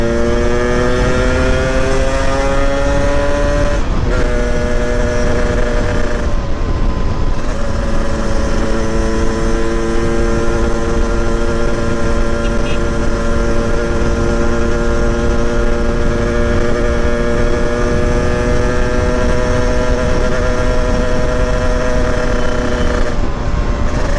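A Yamaha RX King motorcycle runs at speed on a road in Banda Aceh, with its engine droning loud and steady under heavy wind rush and brief pitch drops at the gear changes.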